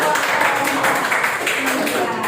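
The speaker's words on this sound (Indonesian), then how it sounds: "Oke, tepuk tangan dulu" A crowd claps continuously, a dense, steady patter of many hands with no pauses, fairly loud throughout.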